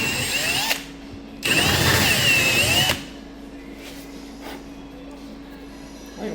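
Power drill boring a dowel-sized hole with a larger bit into a poly panel prop, a loud steady whine for about a second and a half after a shorter burst, then quiet room tone.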